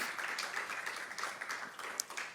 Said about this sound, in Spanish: Si puede darle un aplauso al Señor.